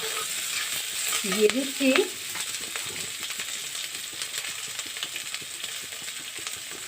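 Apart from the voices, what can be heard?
onion and capsicum frying in a pan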